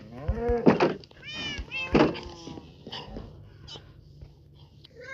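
Cats in the Minecraft video game give several short, close meows of varying pitch in succession, with a person talking softly underneath.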